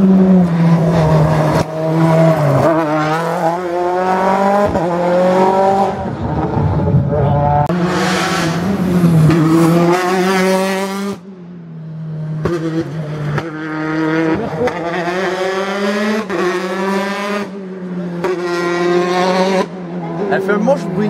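Rally car racing through a special stage at the RACC Costa Daurada rally near Montmell, engine revving loudly up and down through gear changes as it passes close by, with people talking over it.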